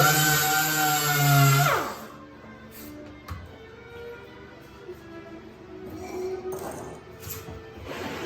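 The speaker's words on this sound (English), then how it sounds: "So I'm going to take my sander and I'm going to sand it." A power sander whines loudly against a wooden kitchen cabinet face frame for about two seconds, then winds down, leaving quieter handling scrapes and knocks.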